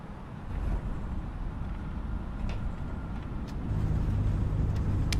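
Airbus A320neo airliner in a flight simulator applying reverse thrust on landing rollout: a steady, dense roar of engine noise that swells louder toward the end, with no voices over it.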